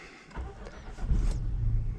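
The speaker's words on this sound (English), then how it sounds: "Start of the engine." A Seat Arona FR 1.0 TSI car engine cranks briefly and catches, settling into a low, steady idle close by.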